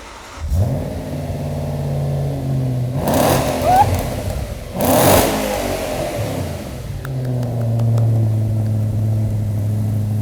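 An Audi RS4 with a Milltek exhaust cranks and fires up, then settles into a deep burbling idle between two loud, rising revs; brief voices come through near the end as it idles on.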